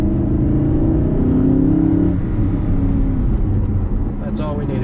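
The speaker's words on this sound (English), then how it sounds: "Accelerate a little harder here so you can hear the exhaust sound." A 2011 Mercedes-Benz SLS AMG engine roars steadily under acceleration with heavy road noise, a deep exhaust drone rising in pitch before easing off near the end.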